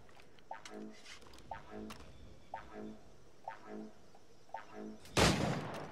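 Gunfire from a flintlock-era weapon in Assassin's Creed IV Black Flag, with a steady run of evenly spaced shots at moderate distance, ending in one louder, broadband blast.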